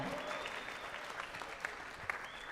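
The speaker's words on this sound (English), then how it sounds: "A round of applause for our hosts" Steady applause from a crowd at the 2023 ACL World Championships, a dense wash of clapping that holds at an even level throughout.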